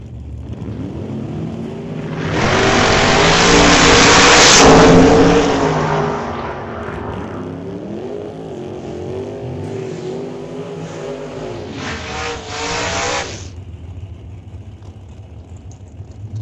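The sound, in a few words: straight line race cars accelerating in a drag race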